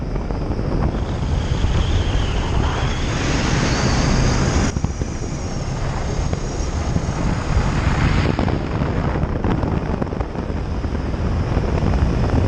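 A 2018 Kawasaki Ninja 400 motorcycle pulling in sixth gear from about 40 mph, its engine note rising steadily under heavy, constant wind rush at riding speed, with no talking.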